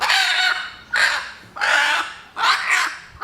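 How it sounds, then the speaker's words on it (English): An 11-month-old Ancona laying hen calls loudly and close by, giving four harsh, raspy squawks in an uneven rhythm with short pauses between them. "This is an 11-month-old Ancona hen. Very vocal, somewhat flighty birds"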